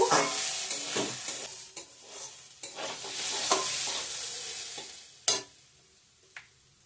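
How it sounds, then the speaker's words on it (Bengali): Spices and vegetables with turmeric frying in a pan for labra khichuri, a close steady sizzle with scraping stirring strokes, easing near the end with a couple of sharp clinks. "হলুদ দিয়ে দিলাম ভালো করে ভেজে নিব"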